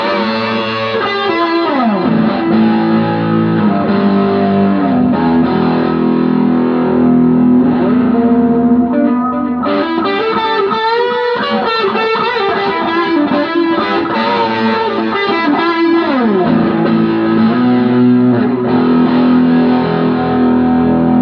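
Electric guitar run through a Joyo D-seed delay pedal with added overdrive, playing sustained distorted notes and bends with echoing repeats trailing behind, loud and continuous with no talk.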